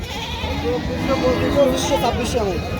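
A young male goat kid bleating at a busy goat market, with several wavering bleats close by amid crowd noise and people talking.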